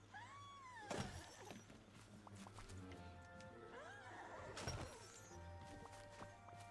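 A horse in Disney Dreamlight Valley whinnies twice, with clear wavering neighs set apart, alongside soft hoof clip-clops and light game ambience.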